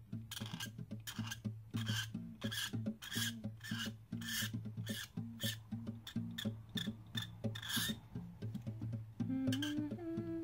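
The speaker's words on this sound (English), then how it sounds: "for some strategic scratching, I would like to bring out some silver details on these like mechanisms that are going on over here" Repeated rasping scratches as paint is scraped off a model's mechanical details to expose the silver underneath, a steady run of short close strokes with no talk.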